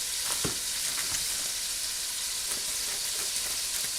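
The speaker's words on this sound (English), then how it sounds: "we're just going to let that sit there and saute for a bit" Curry chicken sautéing in a pan, a steady close sizzle with a few brief stirring clicks, no voices over it.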